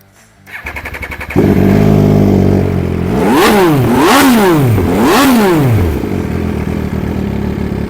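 A 2014 MV Agusta Rivale 800 naked bike idles then is blipped hard, three sharp rising-and-falling revs in a row, loud and close, settling back to a steady idle.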